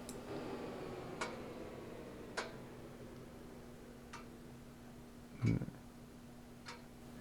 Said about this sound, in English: That might be the Cooldown Crackle.